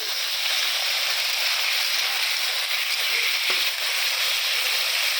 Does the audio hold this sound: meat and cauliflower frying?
yes